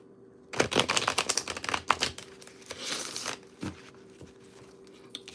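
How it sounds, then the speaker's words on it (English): Tarot cards being shuffled and pulled from the deck, a close, dense run of riffling flutters and papery slaps lasting about three seconds, then a few softer taps. "And I will pull cards for you."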